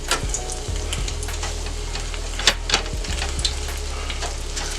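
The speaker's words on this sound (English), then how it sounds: "I think my oil is good and hot." Hot oil for deep frying baby back ribs sizzles and crackles steadily at close range, with a low background hum and a few sharp pops.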